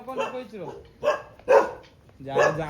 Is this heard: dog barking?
yes